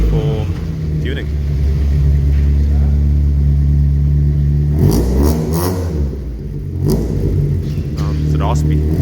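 A naturally aspirated Mk2 Golf GTI 16v with individual throttle bodies revs hard on a dyno, a loud sustained raspy engine note rising and falling with brief throttle blips, no talk.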